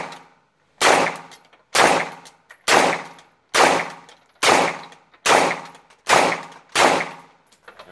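Eight evenly spaced rifle shots from a semi-automatic fitted with a PWS muzzle brake ring out, each a sharp loud crack with a brief decaying tail, fired alone at a steady unhurried pace.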